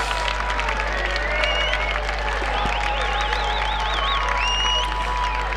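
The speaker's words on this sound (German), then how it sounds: "Und da jubeln die Fans." A crowd of field hockey fans applauding and cheering in a large arena, steady and fairly distant, with whistles and scattered shouts rising above the noise.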